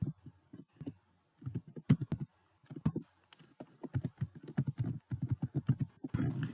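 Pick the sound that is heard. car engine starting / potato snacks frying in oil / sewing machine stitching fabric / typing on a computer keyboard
typing on a computer keyboard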